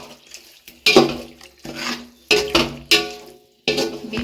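Beef stirred into a dum biryani in a pot for Eid, heard as a handful of loud, separate scraping and clanking strokes of a spoon against metal, with brief pauses between them and no talk.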